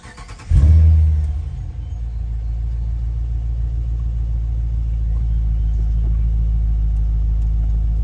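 A car's engine cranks and catches with a loud burst, then drops into a steady, deep idle rumble that holds for several seconds, with no other sound over it.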